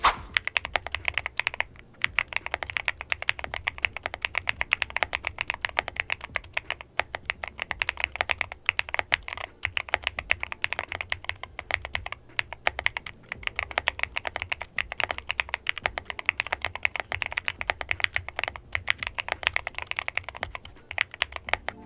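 Steady, continuous typing on an EPOMAKER MS68 keyboard with PBT Cherry-profile keycaps, new out of the box: dense, rapid keystroke clacks close to the listener, no voices.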